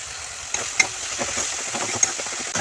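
Curry frying in a pan, a continuous sizzle with scattered knocks and scrapes from stirring, several sharper clanks standing out, no talking.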